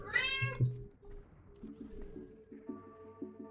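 A cat meows once up close, a short plaintive cry near the start, followed by quieter rhythmic electronic game tones from a strategy game playing faintly in the background.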